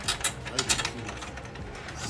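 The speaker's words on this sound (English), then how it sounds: "So we are doing all the screws inside." Screws are being tightened during drum set assembly, giving a few quick ratcheting clicks and short mechanical bursts close by, quiet overall with a steady low background.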